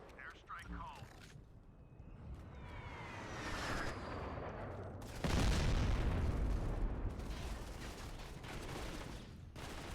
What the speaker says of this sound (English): Airstrike called.